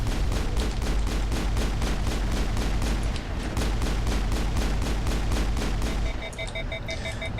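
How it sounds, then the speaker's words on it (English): Rapid, steady bursts of incendiary rounds from Liara's weapon in the game Mass Effect, firing in an even rhythm for about six seconds before breaking off into a quieter tail with thin electronic tones. "That was Liara's incendiary rounds that got the kill shot there, which vaporized him"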